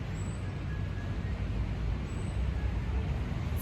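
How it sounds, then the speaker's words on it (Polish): Steady city street traffic with cars passing, a continuous low roadway rumble heard from a distance, with no voices. "tutaj wiecie, jednak są hałasy, są samochody, dużo ludzi"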